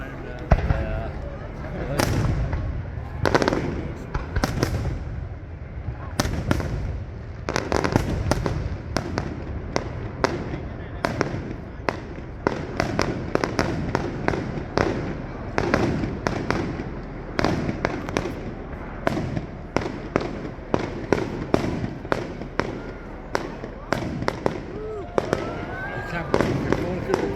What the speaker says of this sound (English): How much money in fireworks?